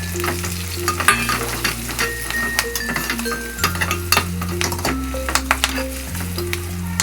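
Curry leaves, green chili and turmeric fry and get stirred in a pan, giving a loud, continuous sizzle with crackling spits and clinks over a steady musical backing.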